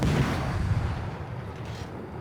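Naval gunfire in World of Warships, a heavy booming salvo rumbling out at the start and slowly decaying, loud and deep with no talk.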